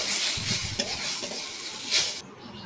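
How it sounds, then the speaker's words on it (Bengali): Washed moong dal being stirred and fried in oil in a wok, a close continuous sizzle with scraping stir strokes, ending abruptly. "আমি কড়াইতে তেলের ওপর মুগ ডালটাকে ভালো করে ধুয়ে ওটাকে একটু নাড়াচাড়া করে নিচ্ছি"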